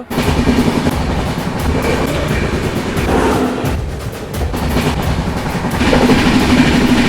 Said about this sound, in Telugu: ట్రావెల్ చేస్తున్న ట్రైన్ వచ్చి 12771 సికింద్రాబాద్ నుంచి రాయ్పూర్ మధ్యలో అయితే నడుస్తుంది సూపర్ ఫాస్ట్ ఎక్స్ప్రెస్